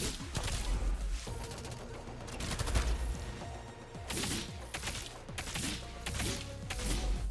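Gunfire barrage in the Arknights mobile game during a Rainbow Six Siege crossover event, dense rapid bursts of shots and impacts layered over game music, fairly quiet and continuous.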